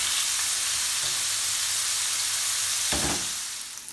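Zucchini and butter sizzle loudly and steadily in a hot pan, a continuous frying hiss with a brief stir or shift partway through before the sizzle eases slightly at the end.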